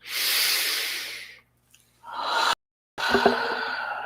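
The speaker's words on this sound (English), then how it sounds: "take a deep and clearing breath" A deep clearing breath during a Kriya Kundalini meditation: a long, close, airy inhale, a pause, then a rising intake cut short by silence and a final breathy exhale, with no talking.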